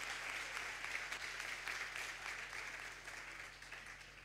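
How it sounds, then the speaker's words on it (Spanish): A lecture audience gives a steady, even wash of applause to welcome a psychiatrist giving a talk on obsessive-compulsive disorder, faint and distant throughout and gradually tapering. "Vamos a darle un fuerte aplauso"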